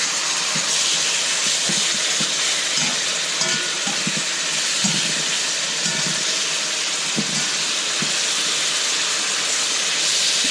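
Steak searing on a stove at high heat, a loud, steady, close hiss of sizzling that fills the whole stretch, with faint knocks of the pan underneath.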